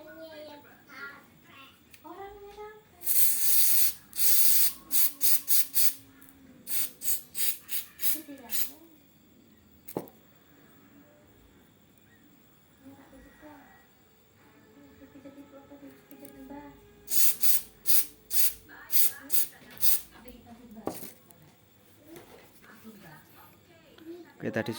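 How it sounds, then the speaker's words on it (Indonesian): Carbon cleaner sprayed through an HVLP paint spray gun being prepared for car body painting gives repeated bursts of sharp hiss in short clusters, separated by quieter gaps with someone talking. "tadi sudah saya sedikit semprot-semprot dengan carbon cleaner"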